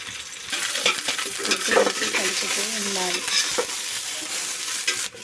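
Green chillies tossed in oil in a bowl for pickle-making, a close spoon scraping and stirring with light sizzly crackle, continuous over several seconds.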